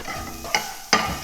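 Spring onion and garlic tempering in a pan for soup, a steady soft sizzle broken by two sharp scraping stirs of a spoon close up, no voices.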